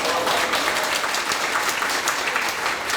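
Steady, dense audience applause fills the room at a company presentation on a network marketing business, continuous and fairly loud throughout with no clear voice over it.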